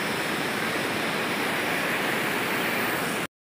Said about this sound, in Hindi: पानी का प्रेशर बहुत ज़्यादा